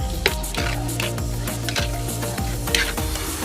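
A pot of menudo stew is stirred over the heat with a steady, repeated scraping rhythm. Close sizzling and bubbling runs constantly underneath.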